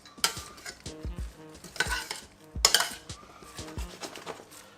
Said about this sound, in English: Add that beautiful vegetable which we just cut up